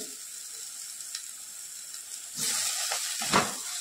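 Coriander sautés in pav bhaji masala with onion, ginger and garlic, a soft steady sizzle that swells louder near the end with a few stirring sounds.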